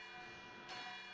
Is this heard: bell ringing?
yes